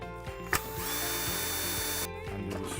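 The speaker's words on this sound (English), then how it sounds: "put the screwdriver through the hole here" A power screwdriver runs steadily while undoing a screw during disassembly of a Polaris Quattro Sport, its motor whine sustained and close for about two seconds between brief clicks and pauses.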